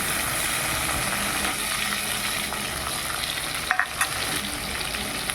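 Native tomatoes sizzle and fry in a pan of prawn gravy, a constant dense crackle close by, with a few brief scraping knocks of stirring near the end.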